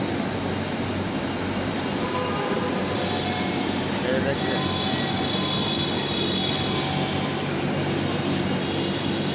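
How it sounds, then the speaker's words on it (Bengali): A metro rail train at an elevated station in Pallabi makes a loud, steady rumble and whirring hum that fills the whole stretch, with a voice speaking briefly over it. "এখন সব লোকজন চড়বে মেট্রো রেল"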